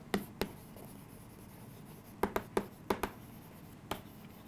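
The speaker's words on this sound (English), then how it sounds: "Let me just write it over here." Chalk or marker taps and strokes on a classroom board during a chemistry lecture, a few sharp clicks at the start, then a quick cluster of strokes and a final tap, close and fairly quiet, with no talk.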